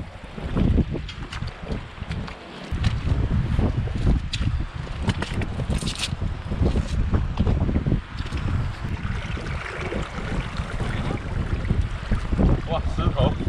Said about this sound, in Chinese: 你看现在风，今天九级大风